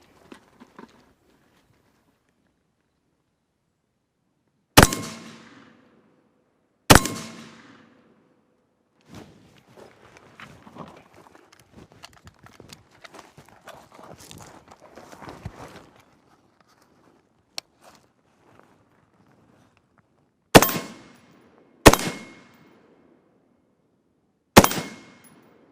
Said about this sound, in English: I'm gonna come around so that I can actually take a shot.